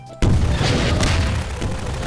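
An RPG rocket explodes in the video game Garry's Mod with a sudden loud boom, followed by a rumbling, crackling blast tail that lingers for about two seconds at close range, with no talking.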